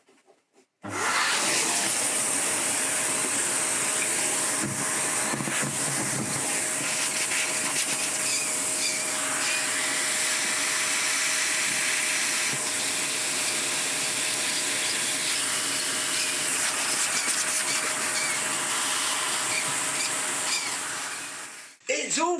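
A Hoover Junior U1650 upright vacuum cleaner runs steadily for about twenty seconds after its stripped fan was repaired, a loud continuous whine and airy hiss that starts abruptly and cuts off near the end.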